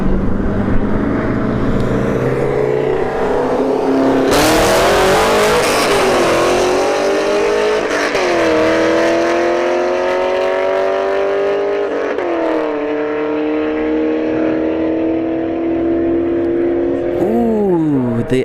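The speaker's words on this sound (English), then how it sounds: "We have an Audi in the right lane and a Camaro 5th gen." Drag race between an Audi wagon in the right lane and a fifth-generation Camaro: loud, close engines rev hard with rising pitch sweeps through repeated gear changes, one launch roaring up mid-run and a final rev near the end, no talk.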